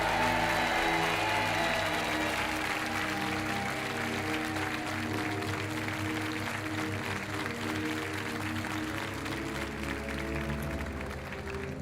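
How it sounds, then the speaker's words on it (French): Sustained, dense applause from a large television game show studio audience, loud and continuous from start to finish, fading only slightly at the end. "On vous laisse repartir avec de gros applaudissements."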